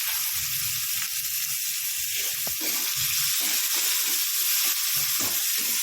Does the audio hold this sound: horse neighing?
no